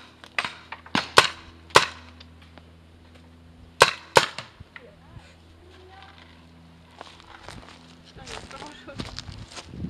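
Paintball guns firing paintballs at an outdoor paintball game, a series of sharp, close pops in small clusters with quieter gaps between, while people talk in French nearby.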